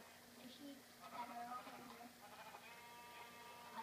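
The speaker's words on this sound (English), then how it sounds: "Oh yeah, I forgot about getting the sheep." Faint Minecraft sheep bleats sound several times over a quiet, steady background, with brief higher cries scattered across the clip.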